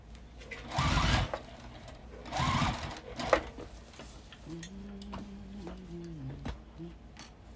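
A sewing machine slowly stitches bulky foam-padded seams on a quilted bag, two short loud motor bursts followed by quieter handling clicks and a faint low hum, close by.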